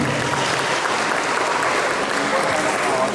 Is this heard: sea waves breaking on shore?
no